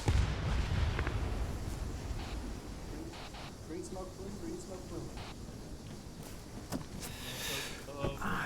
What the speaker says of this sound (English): Shots down the road to the left.